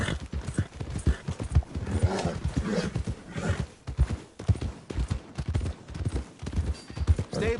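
Horse hooves clip-clopping in a steady rhythm during riding in the video game Red Dead Redemption 2, loud and close, with an occasional snort.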